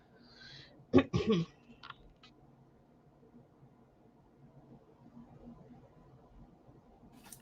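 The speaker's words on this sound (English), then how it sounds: "I really apologize with this damn coughing" A person with irritated sinuses lets out a short cluster of harsh coughs and a throat-clearing rasp near the mic, then falls into quiet room noise.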